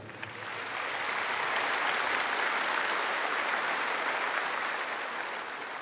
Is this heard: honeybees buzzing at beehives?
no